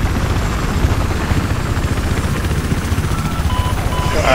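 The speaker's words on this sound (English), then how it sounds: "They got a chopper coming in." A helicopter flies in during a Battlefield 4 match on the Paracel Storm map. Its rotor throb is loud and continuous, with steady choppy pulsing and a rushing roar throughout.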